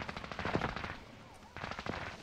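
Gunfire from a pistol in an online shooter game, a quick run of sharp shots in two clusters with a short lull between them.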